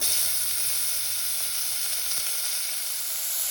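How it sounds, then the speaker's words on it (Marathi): Finely chopped onion fries in oil in a pan for Goan squid curry, making a continuous bright hissing sizzle that stays even and close throughout the short stretch, with no voices. "आनी बरो मातशें भाजया हो पियाव"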